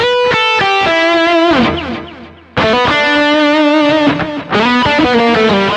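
A distorted electric guitar with a P90 pickup plays a lead line of sustained, singing notes and bends, pausing briefly before the phrase resumes.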